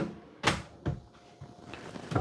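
Inside a 2023 Sierra Luxury 391FLRB fifth wheel trailer, a drawer is pulled and handled, giving a few sharp, close knocks and slides spaced about half a second apart in a quiet room.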